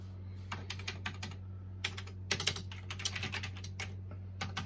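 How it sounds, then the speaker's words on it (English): Keys on an old Atari home computer keyboard tapped one after another in irregular bursts, crisp and close, with short pauses between clusters and no talk. "I'm curious to just try out all the keys to make sure they work."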